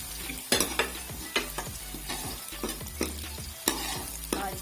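Chopped green onions are stirred and fried in a pan for an aloo matar curry, with repeated scraping strokes of a spatula over a steady sizzle, close and fairly loud.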